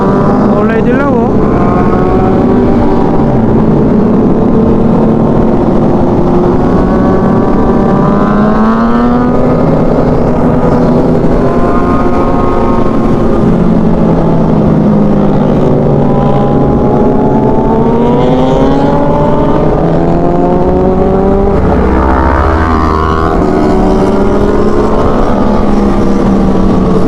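A group of big bike motorcycles riding together on a Ninja group ride in the Philippines, continuous loud engine drone with rising and falling rev tones as bikes pass and overtake, with occasional talk over it.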